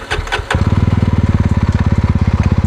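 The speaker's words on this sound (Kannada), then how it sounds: "ಇದರ ಎಕ್ಸಾಸ್ಟ್ ನೋಟ್ ಕೇಳಿಸ್ಬಿಡ್ತೀನಿ." Yezdi Roadster Red Wolf Edition motorcycle starts with a short cranking burst, then settles into a loud, close, steady idle exhaust note with an even, rapid thumping pulse.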